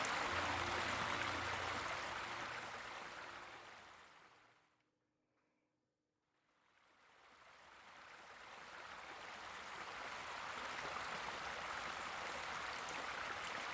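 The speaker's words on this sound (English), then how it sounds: "The rush of running water, sound coming from afar, but no, it's getting closer and closer." Rushing stream water, a steady broadband roar that fades to near silence mid-way and then swells back, loud and continuous, with no talk.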